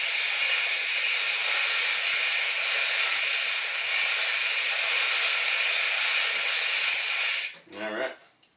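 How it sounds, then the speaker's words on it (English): A noisy bicycle cassette backpedaled while the chain runs through brushes dipped in liquid in a chain cleaner, giving a steady, loud hissing whir for about seven seconds before it stops abruptly with a short clattering tail. "I have a really noisy cassette."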